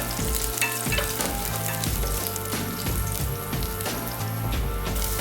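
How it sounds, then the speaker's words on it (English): Chopped garlic sautéing in hot oil in a large soup pot: continuous dense frying sizzle with faint stirring, steady and fairly loud throughout, no voices. "Heat some oil in a large pot and saute chopped garlic"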